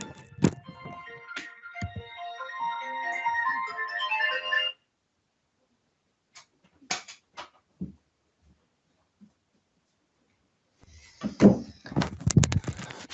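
A mobile phone ringtone plays a bright melodic tune for several seconds in a classroom lecture and then stops. Scattered thumps and handling noises follow, and a burst of clattering comes near the end.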